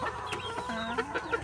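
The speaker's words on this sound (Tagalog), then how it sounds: "Ay manok natin." Chickens clucking close by, a few short bursts of cackling calls over a soft background.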